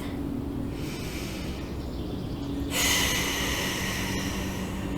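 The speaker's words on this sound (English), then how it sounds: "we're just going to take 1 more deep breath" A deep breath drawn in and released during a stop-smoking relaxation session, heard as a soft, close airy inhale that swells into a louder exhale partway through, with no talking.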